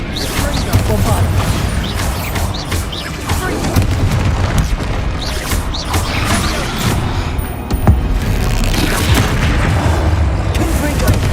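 In the game Hogwarts Legacy, spell blasts including the Bombarda explosion boom and crash over dense, continuous combat noise, with repeated loud impacts, clatter and shouted spell calls layered throughout.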